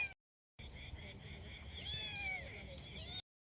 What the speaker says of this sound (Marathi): ही मांजरांची पिल्ली आमच्याबरोबरच येते दिवसभर